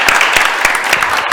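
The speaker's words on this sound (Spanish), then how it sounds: "así que un fuerte aplauso para Gustavo" Audience applause for a guest on a televised program, steady dense clapping held at an even loudness throughout the short stretch.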